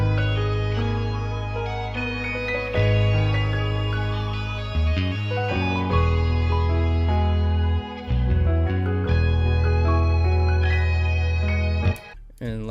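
A melodic loop built in FL Studio with EQ, reverb and delay plays sustained tonal notes and chords over deep bass tones for about twelve seconds, with echoing tails and brief dips between phrases, without any voice over it.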